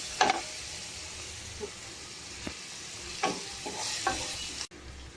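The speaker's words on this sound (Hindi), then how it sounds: "अब इसको हम अच्छे से भून लेंगे थोड़ा, जब तक अदरक लहसुन का अच्छा स्मेल आने लगे।" A soft, continuous sizzle of ginger-garlic paste frying in a pan, broken by a few light clicks and taps from stirring.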